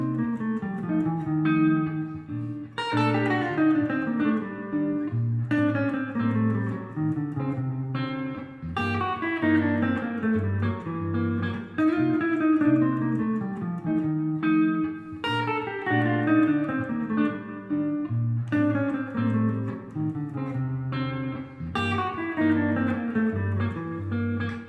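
A guitar plays a continuous melodic line over a repeating chord progression, moving through Phrygian major and G melodic minor scale runs in flowing phrases, with chords struck every few seconds beneath it and no talking.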